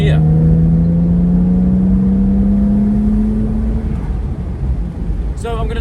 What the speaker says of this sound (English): It's definitely a lot louder, sounding like a proper Porsche now, as you can hear.